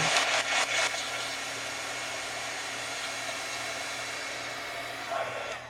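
A hair dryer dries paint on a craft project with a steady, close whooshing drone that holds evenly throughout after a few brief knocks at the start.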